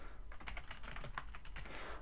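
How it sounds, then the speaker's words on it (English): Quick, light clatter of keys on a computer keyboard, typed in an irregular run of taps at close range, fairly quiet and with no voice over it. "trying to type"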